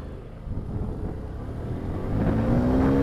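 A Honda Vario 160 scooter and a Yamaha Byson motorcycle accelerate side by side in a drag race, their engines droning steadily and then swelling louder and rising in pitch as they pull away nearby.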